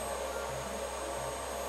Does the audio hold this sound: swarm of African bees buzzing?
no